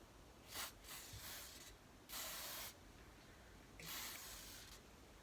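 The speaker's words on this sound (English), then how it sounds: "so give it a wee spray" Three short hissing bursts of an aerosol ceramic spray can, each about half a second, with quiet pauses between, close by, spraying a turbocharger shaft.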